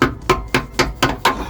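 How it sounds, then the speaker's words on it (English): Six sharp metallic knocks ring out at an even, quick rhythm as a hammer strikes a crowbar to tap a polybush into the rear trailing arm of a London black cab, loud and close. "Let's see if we can give it a little tap with this crowbar and a hammer."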